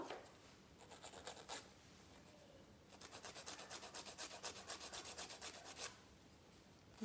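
A file and buffer rasp back and forth across a sculptured acrylic nail, in quick rhythmic strokes: a short burst, a pause, then a longer steady run, close up and quiet with no talking.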